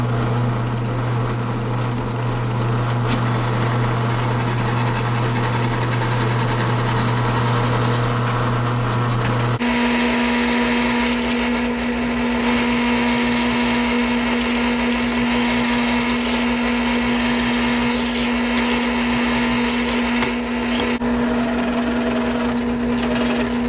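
A Hercules carbide-tipped Forstner bit bores holes in a 3/4-inch oak board, making a steady, loud motorized whine that runs continuously, with the pitch shifting partway through, and no voices.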